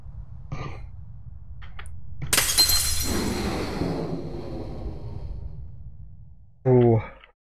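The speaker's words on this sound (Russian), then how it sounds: "Короче, шарик, походу, сломался." A glass orb breaking in the puzzle game Mind: Path to Thalamus, a sudden bright shattering crash that rings and fades over several seconds in a quiet cave, with brief voice sounds before and after.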